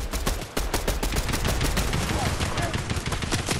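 Dense, continuous gunfire from enemies in Fortnite, rapid sharp cracks rattling close and loud with barely a break, with players talking faintly underneath.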